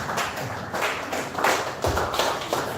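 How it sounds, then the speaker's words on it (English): An audience claps steadily in a hall to welcome the RCC chairman at a Christian youth gathering, a dense, continuous patter with some louder thumps and swells. "A round of applause. If you don't clap, you're not going to sit down."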